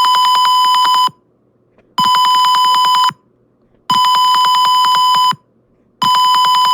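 Gas sensor alarm set off when readings pass 500, a loud close buzzer sounding in long bursts of about a second each with short silent gaps between, repeating four times.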